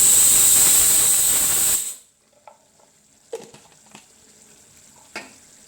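Onion and garlic drop into a hot pan with a loud, hissing sizzle that cuts off abruptly after about two seconds, leaving near silence broken by a few faint kitchen clinks.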